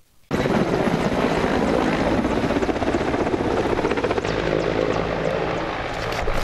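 Firefighting helicopter flying over a forest fire on Marmara Island, a steady, loud rotor roar with engine whine that sets in abruptly and holds throughout with no talking.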